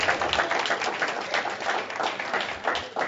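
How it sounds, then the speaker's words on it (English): A group of students at a STEM presentation applaud themselves, a dense, steady patter of clapping hands that stays fairly close and even for about three seconds with no pause. "Give yourself a round of applause"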